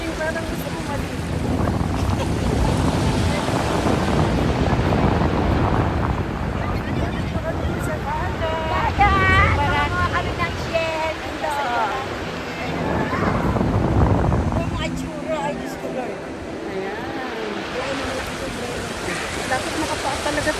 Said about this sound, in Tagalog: Ang daming hangin.